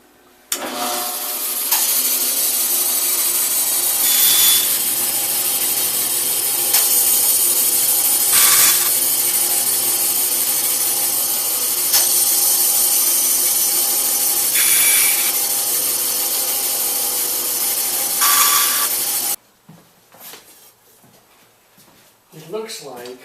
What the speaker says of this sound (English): Now we're going to cut a notch in each one to hold the string that goes around the kite.